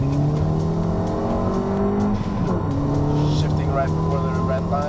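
A Ford Fiesta ST is floored down a straight, its small engine droning steadily loud with rising harmonics and a brief dip around a gear change, while someone talks over the sound.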